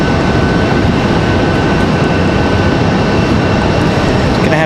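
An airplane taxis at Raleigh-Durham International Airport, heard as a loud, steady jet engine roar and hum that holds constant throughout with no talking.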